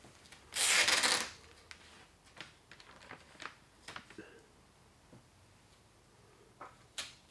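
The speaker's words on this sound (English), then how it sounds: "I'm smooshing the tape to the paper" Masking tape is pressed onto masking paper while a 1966 Mustang is prepped for paint. A loud crackling rustle comes first, then soft scattered crinkles and taps from the tape and paper.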